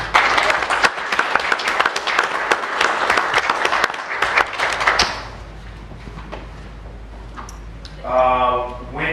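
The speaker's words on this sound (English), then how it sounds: "we'll give them a round of applause" City council meeting audience applauds city employees receiving service plaques; brisk clapping fills the first five seconds, then fades to scattered claps and room noise before a voice briefly speaks near the end.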